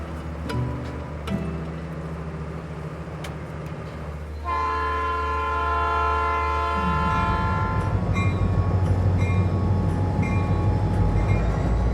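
A train horn sounds in long sustained blasts while a train rumbles and rolls along the tracks at a small station in a town of 200 people, steady and fairly loud, with no talking.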